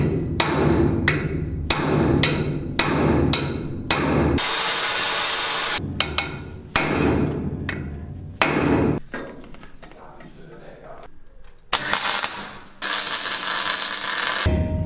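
Sharp metallic hammer blows strike a steel locking pin on a tank suspension coupling arm, coming in quick repeated bursts interrupted by loud hissing noise.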